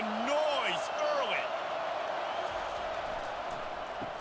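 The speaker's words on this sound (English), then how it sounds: "This crowd bringing the energy and noise early." A stadium crowd in EA Sports College Football 25 keeps up a broad, steady roar, with scattered whoops and whistles rising early and then settling, and no talk over it.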